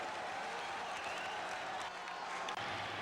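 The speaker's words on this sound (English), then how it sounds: "the crowd comes very much alive again as Kevin Mitchell comes to the plate" A large baseball stadium crowd at the 1989 World Series cheers and applauds as a batter comes to the plate, a steady distant roar with scattered clapping throughout.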